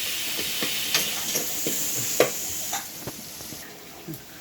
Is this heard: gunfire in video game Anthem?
no